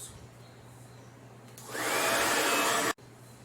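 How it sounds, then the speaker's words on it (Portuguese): A hair dryer switches on partway through and blows a steady loud whoosh while drying craft paint on a glass bottle, then cuts off abruptly near the end. "Vou usar o secador"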